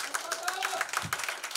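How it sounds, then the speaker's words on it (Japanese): An audience applauds two rap battlers at a freestyle rap battle final, with quick, close claps over a lively crowd while a voice talks on top. "まずは2人に大きな拍手を。"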